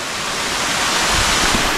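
A waterfall tumbles down stone steps in El Salvador, a steady, dense, full-spectrum roar heard up close with no breaks or voices over it.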